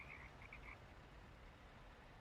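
Croaking frogs in the TruckersMP trucking game, a quick cluster of faint chirpy calls in the first moment, then only a steady low engine-like rumble.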